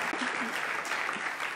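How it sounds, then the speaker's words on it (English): Short, even burst of audience applause in a large hall at a mayors' winter meeting luncheon, clapping heard at a moderate distance with no voices over it. "That's an applause line"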